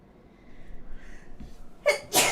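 A single sharp sneeze bursts out near the end after a faint intake of breath, loud and close against a quiet room.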